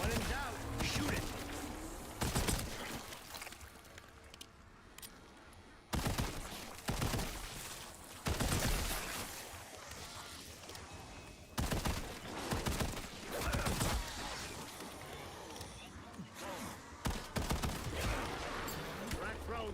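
Bursts of gunfire in Call of Duty: Black Ops, sharp repeated volleys and rapid shots spaced across the stretch, loud against a busy game soundscape.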